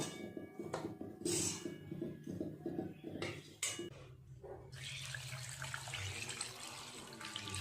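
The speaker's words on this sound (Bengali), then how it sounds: "এই মাংসের উপরে দিয়ে দেবো গরম জল" Hot water poured from a vessel over homemade desi chicken in a cooking pot, with clinking of metal utensils first and then a steady close splashing pour.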